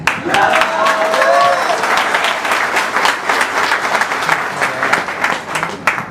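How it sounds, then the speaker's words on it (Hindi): An audience at a live business event in Ahmedabad claps loudly and continuously for about six seconds, a close, dense wash of applause with some voices mixed in. "मुझे केवल ताली वाली आवाज ही पहचान में आती है।"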